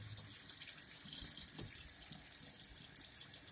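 Water running from a kitchen tap to rinse tilapia, a faint, steady splashing hiss with small irregular spatters as the fish are moved under the stream.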